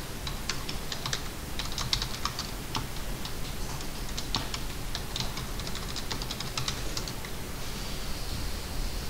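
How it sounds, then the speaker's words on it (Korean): Quick clicking keystrokes on a computer keyboard while entering AutoCAD drawing commands, in irregular bursts over a constant broadband hiss, with a brief pause near the end. "ESC 누르고 다시 라인 명령 입력해야 됩니다"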